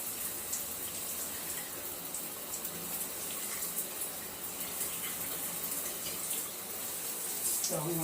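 Water runs continuously from a tap or shower while hair is rinsed, a steady close hiss with faint splashes and a brief spatter near the end.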